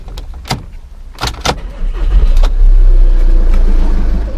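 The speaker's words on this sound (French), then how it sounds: "procédons à la mise en marche du moteur." A car with an engine warning light has its engine started after a few clicks and thumps, then a low, steady idle rumble settles in close and loud.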